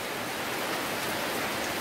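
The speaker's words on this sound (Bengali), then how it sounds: "এই বৃষ্টি যে শুরু হলো," Rain falls steadily on Sajek hill country, a continuous broadband hiss and patter with no distinct drops standing out and no voices.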